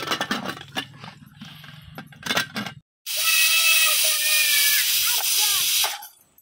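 A pressure cooker on a wood-fired stove cooking pav bhaji vegetables lets out a loud, sustained steamy whistle and hiss that starts abruptly and runs for about three seconds. Scattered clatter and low household noise come before it.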